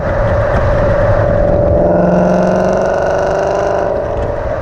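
A 2018 Mustang GT fastback with a Corsa Sport 3-inch cat-back exhaust and quad 4-inch tips revs, a loud, close, droning engine note that climbs in pitch and holds steady, with no talk over it.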